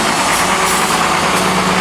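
A garbage truck drives along a Buenos Aires street, its engine a loud, close, steady rumbling drone that runs without pause.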